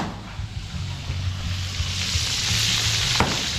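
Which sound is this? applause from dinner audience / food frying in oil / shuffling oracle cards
food frying in oil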